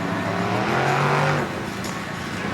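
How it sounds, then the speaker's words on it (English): Monster trucks Spider-Man and Grave Digger rev their engines during an intermission at the Budds Creek motocross track, a loud roaring drone that climbs briefly and then drops to a lower rumble. "Checking out some monster truck action here."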